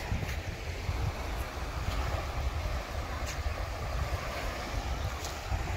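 Sea waves and steady wind along the coast at Batangas, a continuous low roar of surf with wind buffeting the microphone and no voices.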